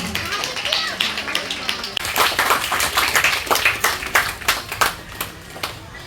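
An audience at a Ganesh Navaratri function in ShivaReddyNagar, Hyderabad, claps in a rhythmic burst that starts sparse, swells into a run of loud, distinct claps, then thins out, with talk underneath.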